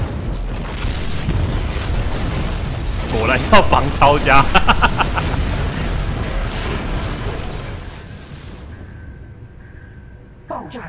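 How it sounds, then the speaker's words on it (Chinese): Explosions in StarCraft II: Heart of the Swarm roll as deep rumbling booms under game dialogue and a player talking, then fade away near the end. "爆炸停止了"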